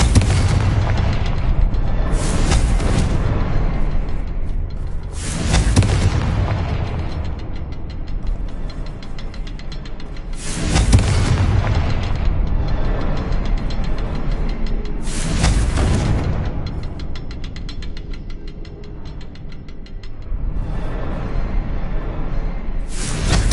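Fire-blast spell explosions from Hogwarts Legacy boom repeatedly, four or five loud blasts at intervals of several seconds, each followed by a rumbling decay with mechanical clanking between.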